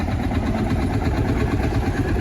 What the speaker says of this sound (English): The Leyland going off there